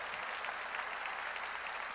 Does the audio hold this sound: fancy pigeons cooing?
no